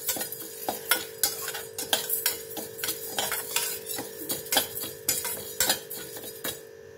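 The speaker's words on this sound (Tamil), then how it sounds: "ரெண்டையும் லேசாக வாசனை வர வரைக்கும் வறுத்துக்கலாம்" Moong dal and toor dal dry-roasting in a pan, stirred steadily with a spoon: a close, rhythmic run of scraping clicks and taps over a low constant hum, with no voices.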